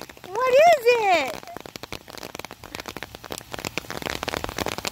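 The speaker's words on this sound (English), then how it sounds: "It's rain." Rain falling outdoors onto wet ground, a steady crackling patter under a voice talking to a baby, with a loud vocal burst near the start.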